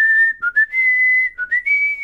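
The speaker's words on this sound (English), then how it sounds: "my main voice line I have for him is he actually will whistle the Overwatch theme" The robot hero Bastion from the video game Overwatch whistles the game's theme as a voice line, a clear, loud melodic tune with short breaks between phrases and no talking.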